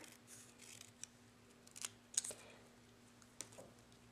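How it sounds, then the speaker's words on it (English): Scissors trimming Whisper White cardstock, a few quiet, sharp snips spaced across the moment at close range, with no talking. "just take your scissors and trim along the edge of your saying"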